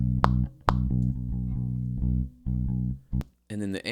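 A bass guitar recorded through a direct DI signal plays a clean, bass-heavy line of sustained low notes with short gaps and sharp plucked attacks, then a voice begins speaking at the end.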